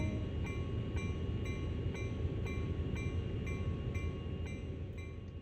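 Diesel locomotive in Train Sim World idling and beginning to pull away, a steady low rumble with a faint periodic click repeating about twice a second, constant and fairly loud throughout with no talk.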